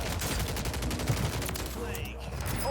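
Sustained exchange of gunshots in Warzone on Rebirth Island, dense steady firing under a constant background with no clear pauses.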